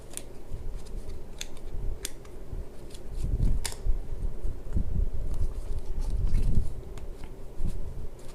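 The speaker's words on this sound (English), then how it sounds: "So I'm just gonna cut this ID one just to double check." Scissors snipping a slit in a duct tape wallet, a series of sharp close cuts with rustling tape and handling noise between them, no speech.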